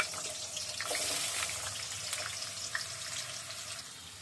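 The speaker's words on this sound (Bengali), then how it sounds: "তা প্রথমে আলুগুলো ভেজে নিই" Potatoes frying in a pan in a home kitchen, a soft, continuous sizzle with faint crackles and watery hiss, fairly quiet and without talk.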